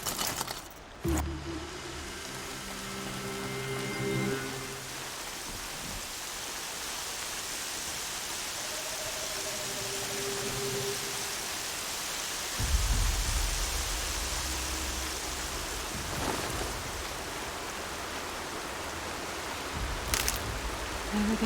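Rain falls in the video game Horizon Zero Dawn as a steady, soft hiss, joined by a few brief low thuds and rustles early and midway.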